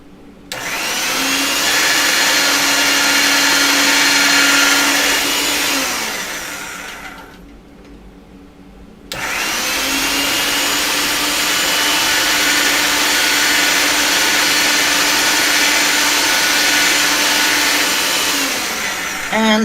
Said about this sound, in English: I'm going to get this through a thinner setting on the machine